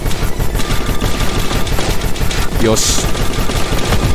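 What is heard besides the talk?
gunfire in video game Ironmelt Marfusha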